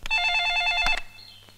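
A telephone rings in one loud electronic burst with steady high tones, then cuts off, leaving faint background noise.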